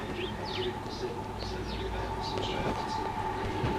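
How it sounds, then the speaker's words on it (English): Birds chirp in quick repeated calls over a constant low mechanical hum, moderately loud and close, with no talk. "Silly Billy birds. What are you up to?"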